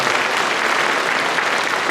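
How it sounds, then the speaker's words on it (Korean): Dense, steady applause from an audience at a city mayor's public town-hall meeting in Nonsan, Korea, a broad wash of clapping filling the whole moment without pause. "응원의 박수 한번 부탁드리겠습니다."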